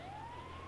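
Ambulance siren in the video game GTA 5, a single rising electronic wail held steady and fairly faint over a low engine drone, with no talking.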